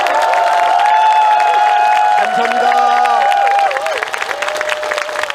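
A large crowd at a speech applauds and cheers steadily. A loud tonal voice rings over the clapping, and a short spoken phrase can be heard amid the applause.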